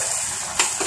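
Capsicum and other vegetables fry in a pan with soy and tomato sauce for a plantain manchurian, a steady close sizzle with a couple of brief stirring scrapes.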